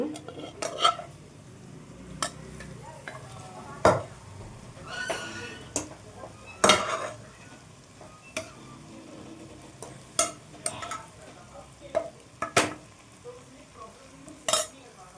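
Fried drumstick leaves being stirred into dal in a pan on medium flame, with scattered sharp spoon-on-pan knocks and scrapes over a soft, steady sizzle, close by.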